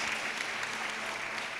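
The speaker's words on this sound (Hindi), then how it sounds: "ताली बजा के प्रभु को धन्यवाद देंगे।" A church congregation at a fasting prayer service applauds in thanks to the Lord, with dense, steady clapping that fills the room from start to finish.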